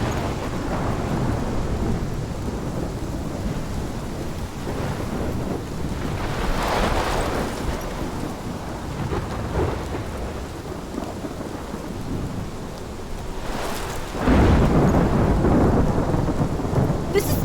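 A thunderstorm in the video game Life Is Strange, with steady heavy rain and low rolling rumbles, louder thunder swelling around the middle and a strong crash near the end, constant and close with no voices.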